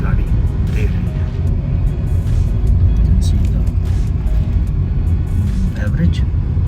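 A 2023 Suzuki Swift GLX climbing an uphill mountain road toward Nathia Gali, its engine a loud, steady low rumble mixed with constant road and tyre noise from inside the car.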